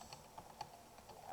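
Quiet keystrokes on a computer keyboard entering a git command, a short run of light, irregular clicks over about a second, close and fairly soft with no talking.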